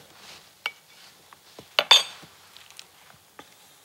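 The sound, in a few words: spoon placing meat mixture onto burger buns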